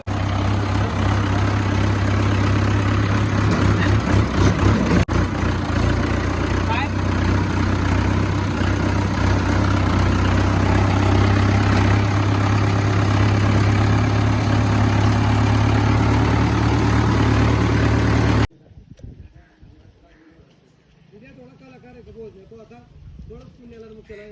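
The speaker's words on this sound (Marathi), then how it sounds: "अतिशय सुंदर असं ट्रॅक्टर चालू राहिलं आहे" A tractor engine idles with a steady low throbbing drone for most of the stretch, with a voice talking over it, then it cuts off abruptly and only quieter background sound remains.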